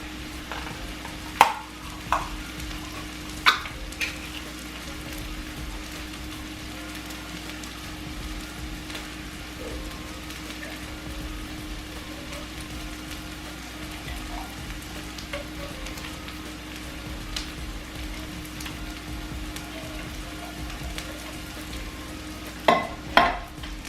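A spoon stirs hash brown casserole ingredients with cream of celery, a wet, goopy squelching and scraping that runs steadily, with a few sharp knocks against the dish near the start and end, close and quiet.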